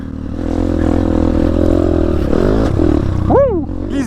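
A dirt motorcycle's engine roars continuously as the bike rides and bounces over bumps, loud and close, with a rising whine near the end as the revs climb.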